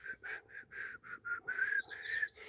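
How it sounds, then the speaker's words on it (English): Someone whistles a short melody, a series of quick separate notes followed by longer sliding tones, fairly soft and close. "they singing this song by whistling"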